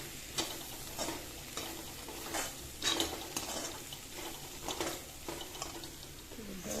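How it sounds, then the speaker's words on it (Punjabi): Bitter gourds roast in a pan, with soft, rhythmic scraping strokes of a spatula stirring them over a faint, continuous sizzle, heard fairly quietly and close by. "ਕਰੇਲੇ ਪਾ ਕੇ ਇਹਨਾਂ ਨੂੰ ਭੁੰਨ ਲਵਾਂਗੇ"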